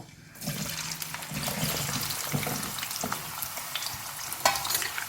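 Pieces of potato sizzle steadily in hot oil while being deep-fried, a dense crackling hiss with occasional pops and stirring scrapes, close and continuous.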